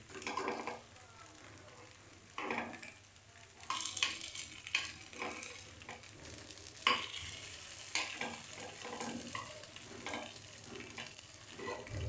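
Rice flour appe sizzle in an appe pan while being turned over, with continuous frying crackle, scraping stirs and light metal clinks of a utensil against the pan throughout.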